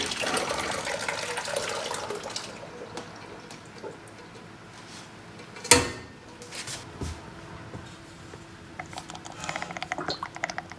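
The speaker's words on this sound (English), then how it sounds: "And that's draining nicely." Liquid pours and trickles steadily while draining through a tea towel while making ricotta, with a brief louder splash midway and soft dripping toward the end; no voices.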